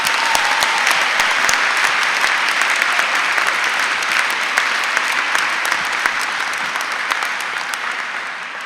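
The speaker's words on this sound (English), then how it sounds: "Give yourselves a massive round of applause" A large university winter graduation audience applauds, dense sustained clapping filling the hall and tapering slightly toward the end.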